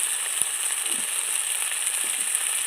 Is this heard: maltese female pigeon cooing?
no